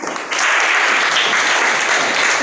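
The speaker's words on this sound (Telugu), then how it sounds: "క్లాప్స్" Students in a spoken-English class break into applause, a brief quiet lead-in giving way to a thick, even wash of clapping hands that stays loud and close to the end.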